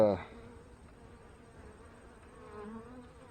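Honey bees hum in a low, steady drone around an opened hive outdoors near fireweed, faint and continuous after a brief soft knock at the start.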